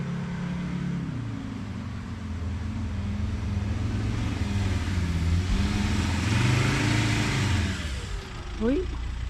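A car engine hums steadily while driving through a camping trip, with a low droning tone that rises and falls gently over the whole stretch and a brief rattle near the end.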